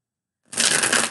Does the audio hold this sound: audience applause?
no